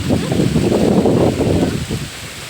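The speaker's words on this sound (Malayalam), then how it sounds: "നല്ല കാറ്റ്." Wind gusts outdoors on a sunny day, where mangoes are being scraped and washed, in a loud, steady rush of broadband noise that fades slightly near the end.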